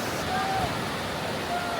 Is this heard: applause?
no